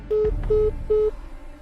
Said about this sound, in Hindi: पिता घबराहट में दोबारा फोन कॉल किया